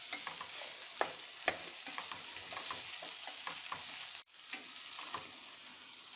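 Bay leaves and ground paprika sautéing in a pot for borscht, a steady close sizzle and frying hiss with occasional stirring clinks, pausing briefly before resuming, no talk.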